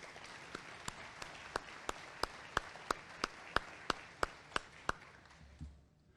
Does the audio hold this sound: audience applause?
yes